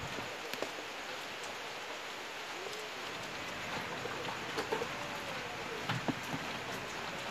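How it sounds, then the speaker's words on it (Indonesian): Light drizzle falling steadily as a soft, even hiss, with a few faint drips and small knocks scattered through it and no speech. "Hujannya rintik-rintik"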